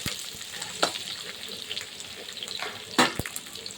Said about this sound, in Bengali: নাড়াচাড়া করে দেব যাতে পেঁপের মতো সুন্দর করে এগুলো ভাজা ভাজা হয়ে যায়